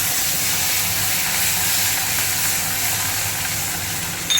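Onion paste sizzling in hot oil tempered with black cumin seeds while cooking tel koi fish, a steady close hiss of frying throughout with no talking.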